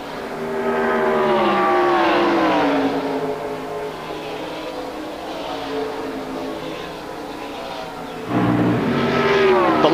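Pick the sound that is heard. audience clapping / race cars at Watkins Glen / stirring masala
race cars at Watkins Glen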